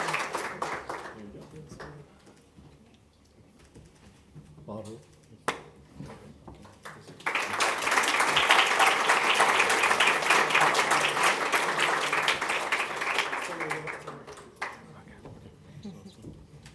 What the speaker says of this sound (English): I'd like you all to please give him a round of applause